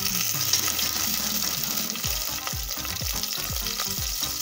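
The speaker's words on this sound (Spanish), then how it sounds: "en una sartén previamente caliente, le vamos a agregar aproximadamente 100 gramos de mantequilla y vamos a permitir que se derrita" About 100 g of butter melting and sizzling in a preheated frying pan, a steady close fizzing hiss with occasional bubbling pops and stirring scrapes, no voices.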